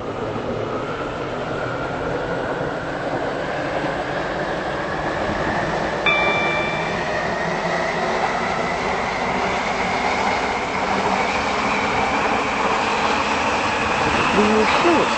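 A class 730 train rolls along the rails with a continuous rumbling drone and faint clacking, a brief electronic tone chiming partway through.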